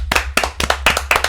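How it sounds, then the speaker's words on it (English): A small group claps in a short round of applause for a wrestling commentator, five or six sharp, close claps in quick, slightly uneven rhythm. "let's have a round of applause for Michael Cole and we will tweet it to him"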